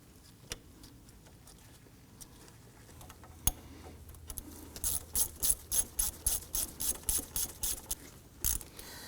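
A ratchet tightens a brake hose bolt on a Nissan Murano, first with a few isolated clicks and then a quick series of a dozen sharp, loud ratcheting clicks close by, no voices.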